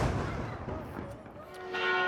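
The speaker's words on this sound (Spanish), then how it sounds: "hay una torre en la que sueltan un cañonazo a las 12 del día" A noon cannon shot fired from a tower in Croatia booms loud and close, its heavy report rolling through the space, with a rising rumble near the end and no voices.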